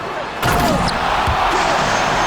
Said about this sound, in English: Fast break, here they come. And Jones slams it in.